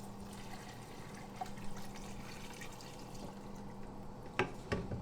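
Quiet, steady liquid pour of 1.5 litres of vegetable stock into a pot of spiced carrot and parsnip soup, a soft continuous trickle with a couple of small splashes near the end.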